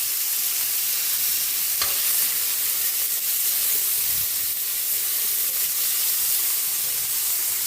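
Onions and tomatoes drop into a hot pan with garlic for a mung bean stew and hiss in a loud, steady sizzle with steamy spitting, close and continuous throughout, with no one talking.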